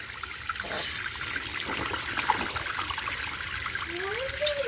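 Tap water runs and trickles steadily in a kitchen sink while fish is being washed, a continuous splashing flow with a faint voice and a brief whistling tone near the end.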